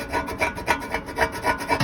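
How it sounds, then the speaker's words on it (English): A steel sump pan is being sanded by hand on a workbench for a BMW N43 engine with an oil pressure fault. Close, steady back-and-forth rubbing strokes repeat about four times a second, with no voices. "I'll have to sand that, I think,"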